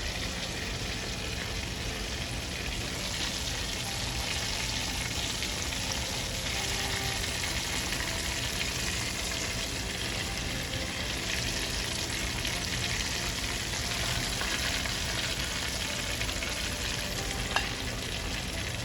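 Steady, dense sizzling of Jamaican barbecue chicken frying in hot oil, a constant crackle with no pauses and no voices.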